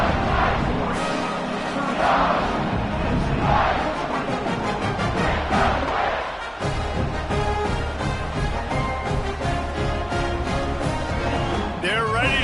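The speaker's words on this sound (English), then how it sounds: "this crowd is buzzing after that last score" A packed football stadium crowd keeps up a loud, steady roar after a score and the extra point, as the teams line up for the kickoff. The dense buzz fills the whole stretch, with brief swells and crashes in it.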